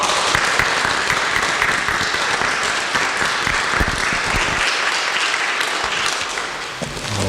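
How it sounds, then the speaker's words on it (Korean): Members of a Korean church congregation clap loudly and steadily to welcome a pastor, a dense wash of applause that thins slightly toward the end. "우리 크게 박수로 함께 환영했으면 좋겠습니다"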